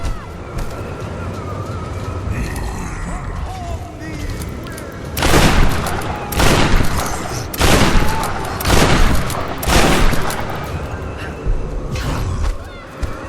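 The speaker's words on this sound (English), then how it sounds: "Let's just shoot him a few more times" Gunfire in the video game Tomb Raider (2013): loud, sharp shots in a quick run of bursts over a steady game ambience, starting after a quieter stretch.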